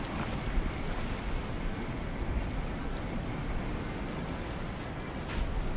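River water rushes in the survival video game Sons of the Forest, a steady broadband wash with wind-like noise, continuous and fairly loud throughout with no voices over it.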